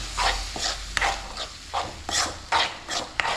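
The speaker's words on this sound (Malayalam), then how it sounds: "ഇനി ഇതാണ്ട ഈ നാരങ്ങേര ചാറുണ്ടല്ലോ ഇറങ്ങി വന്ന ഉപ്പ് കൂടെ ഇങ്ങനെ ഒഴിച്ചു കൊടുക്കാം ഇങ്ങനെ ഒഴിച്ച് ഇങ്ങനെ ഇളക്കാം" Lemon juice and salt for lemon pickle being stirred in a bowl, a quiet scraping, swishing rhythm repeating in short strokes, close and soft with no talk.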